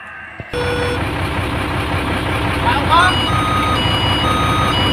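A scooter engine, just started after its flat battery was put on charge, idles with a steady, fairly loud mechanical hum and a faint tonal whine. Brief noise comes before the engine catches, and a voice talks over it.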